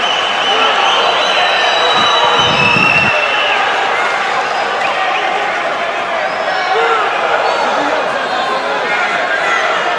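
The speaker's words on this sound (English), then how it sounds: "Crowd's loving this, deafening in this arena right now" Spectators in an arena at an M-1 Challenge MMA fight roar in a dense, unbroken wall of crowd noise, with a commentator talking over it and a brief low thump near the start.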